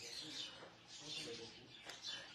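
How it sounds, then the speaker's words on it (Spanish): Ambient bird chirping played as a background sound effect indoors, quiet scattered high tweets and calls repeating over a soft room hush. "¿Los pájaros son reales o es sonido ambiental? Sonido ambiental, mi amor."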